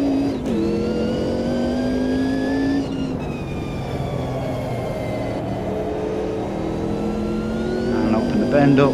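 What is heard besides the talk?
Group C race car engine revving through gear changes, Automobilista 2 video game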